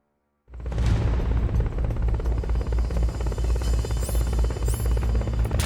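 A helicopter in the PSP game Metal Gear Solid: Peace Walker starts suddenly and keeps up a loud, continuous rotor thrum, with two short electronic chirps layered on top.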